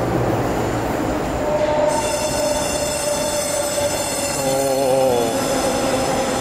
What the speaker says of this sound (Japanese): 今ちょうど列車来たんですけども